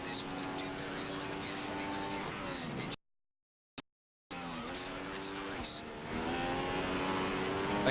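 A Formula 1 car in F1 2015 at the Bahrain Grand Prix screams at high revs, with its pitch climbing and then dropping at each upshift. The engine cuts out briefly partway through before returning loud and close, with a voice talking over it.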